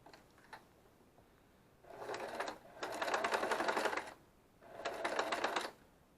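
A sewing machine stitching quilt pieces, running in three close bursts of rapid rhythmic whirring, a short pause between the first two and a longer one before the last, with no talk over it.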